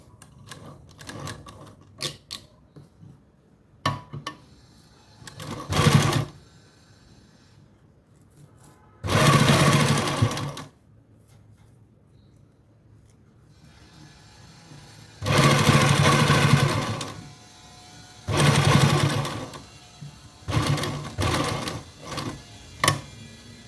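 A domestic sewing machine stitching fabric runs in several loud bursts of rapid mechanical whirring, separated by quieter gaps filled with light clicks and handling noise.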